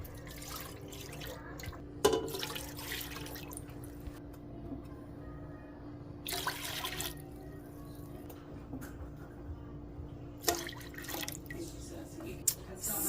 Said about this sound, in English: I'm going to do my 4 cups of apple cider vinegar.